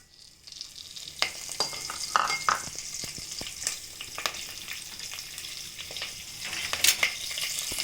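Curry leaves crackle and spit in hot oil for avial, a bright sizzling hiss that swells after a quiet start, with sharp pops and spatters near the pan.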